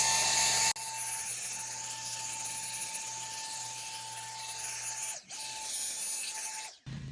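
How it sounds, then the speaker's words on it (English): A leaf blower clears a lawn after dethatching for moss control with a steady, loud, high whine and roaring rush close by, holding almost unbroken for several seconds with two brief dips near the end. "Hit it with the blower."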